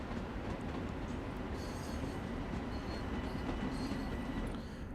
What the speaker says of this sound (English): Trains coming in, trains leaving, as you guys can see.